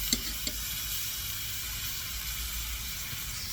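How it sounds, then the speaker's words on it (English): A large London broil steak sizzling on a grill, a steady, even hiss with a couple of faint clicks near the start, continuous and moderately quiet throughout. "I'm going to flip it back over to the other side and cook it again and grill it."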